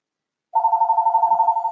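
A landline telephone starts ringing after a short silence, its loud electronic bell pulsing rapidly and evenly, close and alone.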